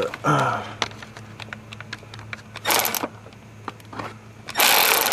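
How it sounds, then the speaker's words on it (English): An electric impact ratchet works on a starter motor bolt of a 2001 Chevy Cavalier 2.2L, firing two short, loud buzzing bursts amid scattered metallic clicks and tool handling. "I'm just going to put on my electric impact ratchet"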